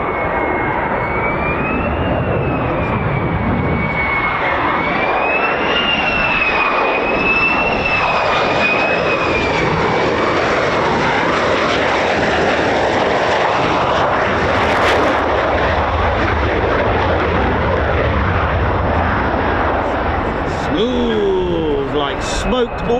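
F-35 fighter jet at RAF Lakenheath flying overhead, a loud continuous jet roar that swells and fades with a whining tone, while someone talks over it.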